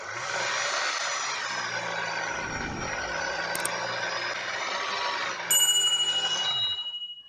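A food processor mixing rye bread dough at first speed gives a steady motor whir, with a brief knock midway and a pitch change near the end as it winds down.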